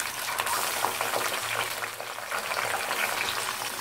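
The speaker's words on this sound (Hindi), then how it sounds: "इसको कुछ देर के लिए रोस्ट होने देते हैं, 2 से 3 मिनट के लिए।" Chicken roasting with onions in a pan for biryani, a steady, dense frying sizzle with a light bubbling edge that stays close and fairly loud from start to finish.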